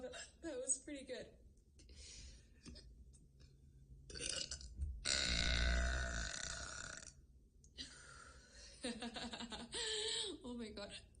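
A girl lets out several loud, drawn-out burps up close, with her chuckles and breathy sounds between them.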